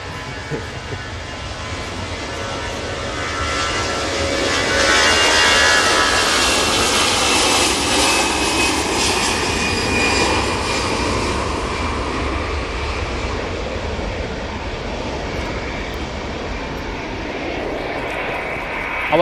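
An aircraft takes off at Manchester Airport with a sustained, loud jet roar that swells early, holds, and then slowly eases into a distant rumble. No one speaks over it.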